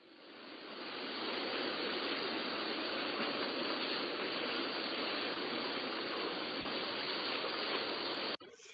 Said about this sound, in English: you might want to do something like ocean waves. This is what it would sound like behind your entire video